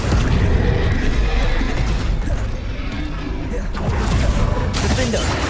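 Spell blasts and explosions from the Hogwarts Legacy video game, a dense, loud, continuous roar of booms, bursts and crackling impacts with no quiet gaps, with voices shouting spell names over the game sound.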